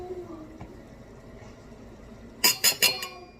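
A metal spoon clinks against a dish about four times in quick succession while a tablespoon of Worcestershire sauce is measured for stuffed pepper soup, coming after a quiet stretch of faint kitchen background.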